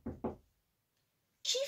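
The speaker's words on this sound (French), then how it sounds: "qui frappe à la porte de petite taupe?" Two quick knocks on a door, close and distinct, in a French children's story reading, followed by silence and then a brief burst of a voice.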